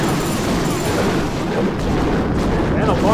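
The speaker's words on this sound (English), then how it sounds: "a large bomb takes out a couple of the wizards" A large bomb exploding in the Clash of Clans video game: a loud, sustained roaring blast fills the moment, broad and rumbling, with little else standing out.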